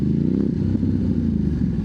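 Ducati DesertX adventure motorcycle ridden off-road on a dirt trail at an adventure camp, with a loud, continuous engine drone and a rattle of clatter throughout.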